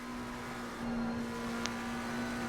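A race car engine in a sim racing game drones with a steady, even tone at moderate loudness, continuous with no talk over it.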